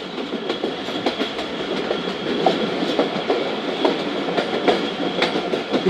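Jaffar Express passenger train rolling through a sharp 90-degree curve onto a bridge between Peshawar and Lahore. A steady, close rumble of wheels carries repeated metallic clicks and clacks throughout.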